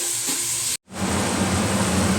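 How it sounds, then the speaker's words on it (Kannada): Spice tempering for sambar crackles and sizzles in hot oil, a brief pause giving way to a loud, dense, steady hiss close by. "ಅದಕ್ಕೆಲ್ಲ ಈಗ ಒಗ್ಗರಣೆ ಹಾಕ್ತಾ ಇದ್ದಾಳೆ."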